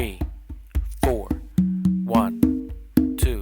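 Slow hand drumming on congas in a funk a caballo fusion groove, roughly twelve crisp strikes at a steady pace, alternating muted slaps and resonant open tones, with a voice faintly heard between the hits.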